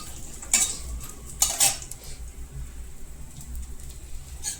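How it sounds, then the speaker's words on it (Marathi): Onion and fresh coconut being stirred in a pan for a traditional chicken rassa, with a few sharp metal spoon scrapes against the pan over a low, quiet background hiss. "आता आपण कांदा खोबरं परतून घेऊ"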